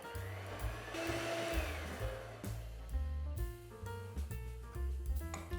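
An electric mixer whirrs through icing sugar for butterfly bun icing in uneven, pulsing bursts, loud and close, with no voices.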